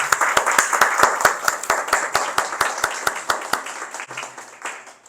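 A church congregation claps in a steady, fairly quick rhythm, the claps loud and close before thinning out at the end.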